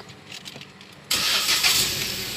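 A Proton Persona 1.6L automatic car engine cranks and catches about a second in, jumping from quiet to a loud, steady idle that holds close by.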